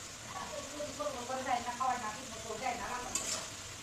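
Spinach and mola fish chorchori fries in a pan, a low steady sizzle with occasional stirring, underneath someone talking.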